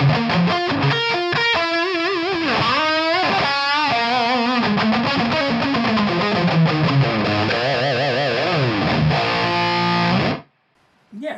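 Electric guitar driven through a Revv Northern Mauler distortion pedal, playing heavily overdriven riffs and sustained bends up close, then cutting abruptly to silence near the end.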